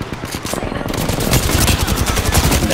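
Rapid automatic gunfire in the video game Apex Legends rattles in fast, continuous bursts, loud and close throughout.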